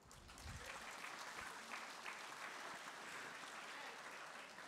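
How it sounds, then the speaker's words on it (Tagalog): Audience applause at a church sermon on money, a steady, sustained clapping from a crowd filling the whole stretch at moderate distance. "Palakpak pa more."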